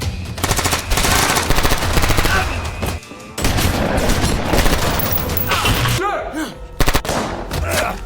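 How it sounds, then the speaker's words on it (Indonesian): Rapid automatic gunfire fills a film action scene, loud and dense bursts of shots with booming impacts, broken by a brief lull near the middle, with faint voices mixed underneath. "Sayangnya, Lisa berhasil menembak Tom."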